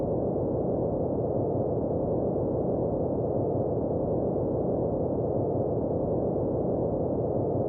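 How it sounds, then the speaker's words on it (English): Steady, filtered white noise from a Vital synthesizer patch, a dark, muffled hiss with the highs cut off, droning evenly and alone as an eerie background texture. "I made this white noise here with a filter"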